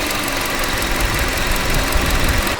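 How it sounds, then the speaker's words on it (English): A car engine idles steadily and close by, with a dense mechanical hum and slight vibration; the load dip as the A/C compressor engages is not clearly marked. "when the AC gets turned on, I can hear the engine drop and go under some load."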